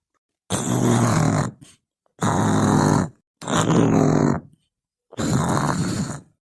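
A man snoring in his sleep in a comedy sketch: four loud, rasping snores in an even rhythm with short silent pauses between them, close up and alone.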